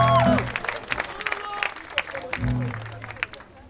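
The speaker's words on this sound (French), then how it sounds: "mais on peut applaudir aussi Laurent là-bas." An audience at a pop culture convention concert claps and cheers in a lively burst while a voice talks over it, the applause fading into scattered claps.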